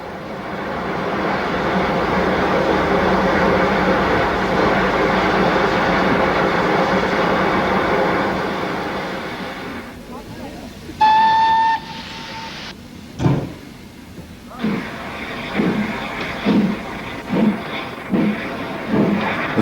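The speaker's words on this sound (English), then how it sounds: "the train is ready for a prompt departure" A Great Western steam locomotive hauling the Bristolian express passenger train rumbles steadily, then a brief whistle sounds, followed by sharp exhaust beats picking up a regular chuffing rhythm.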